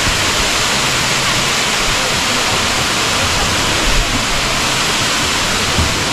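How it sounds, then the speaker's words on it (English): A waterfall near a lake in Tennessee rushes in a steady, loud, broadband roar that holds unbroken throughout, with no voices over it. "we are leaving that beautiful waterfall back there"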